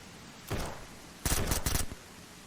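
Gunfire in the zombie survival game Surroundead, one short burst followed by a rapid cluster of several shots at moderate distance.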